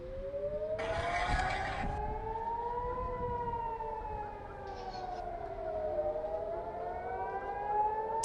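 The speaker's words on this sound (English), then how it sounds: "We got sirens in Jerusalem now" Civil defense sirens in Jerusalem wailing in slow rising and falling tones, heard at a distance and fairly faint, with a brief burst of other noise early on and no speech.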